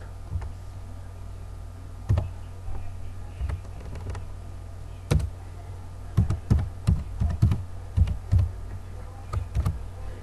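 Sparse keystrokes on a computer keyboard while Pascal program code is typed, irregular clicks and short bursts of taps over a low steady hum, fairly quiet and close.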